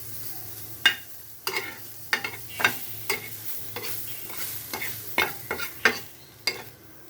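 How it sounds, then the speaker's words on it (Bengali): Onions frying dry in a pan with no oil for dried fish bharta, stirred with a series of sharp scraping clicks and spoon knocks over a low steady hum, no talk. "পেঁয়াজগুলো ভেজে নিচ্ছি, এরকম করে ভেজে নিব শুটকির পেঁয়াজটা"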